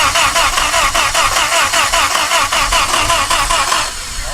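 An 80-year-old abandoned Jeep engine, fed fuel from a bottle, starts and runs loud and close with a rough, pulsing beat, then drops to a lower, slower idle at the end.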